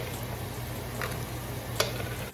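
Green chillies, onion and peanuts fry in a pan with a soft, steady sizzle, with a couple of faint clicks or utensil taps near the end.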